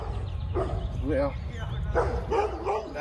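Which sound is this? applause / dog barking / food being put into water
dog barking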